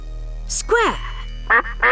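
Mallard duck quacking in a wetlands setting, a few short, nasal quacks in quick bursts, close and clear against a quiet background.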